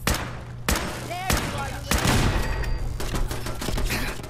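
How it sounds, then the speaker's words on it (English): A machine gun turret in Fallout 4 fires rapid bursts of gunfire mixed with sharp blasts and an explosion, loud and dense throughout over game ambience. "I think I actually killed the raider with the explosion of the machine gun turret"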